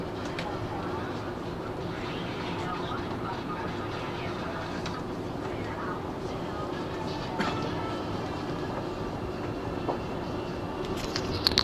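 A subway train rolls through a crowded morning station, a steady low rumble with faint rail clatter. Commuter chatter runs underneath, and a few louder knocks come near the end.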